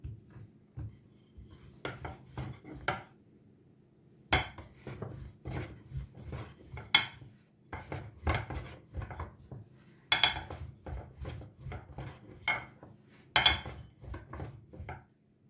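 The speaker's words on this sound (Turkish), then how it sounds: "Dinlenmiş olan yumağımı şöyle düzleştiriyorum ve açmaya başlıyorum" Rested dough for potato börek being rolled out on a floured surface, with repeated wooden rolling-pin knocks and rubbing scrapes in irregular bursts, close and fairly quiet, with short pauses between strokes.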